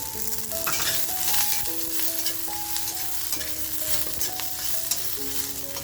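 Grated coconut fries in a hot pan while being stirred, a steady close sizzle with scraping strokes, set under a simple tonal melody playing throughout.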